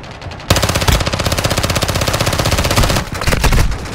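Rapid automatic SMG fire in the mobile shooter Call of Duty Mobile, a loud continuous burst of tightly spaced shots with a brief dip near the end before firing resumes.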